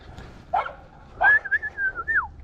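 During a January smallmouth bass fishing outing, a dog gives a short yip, then a longer, high, wavering whine, close and fairly clear, with no voices.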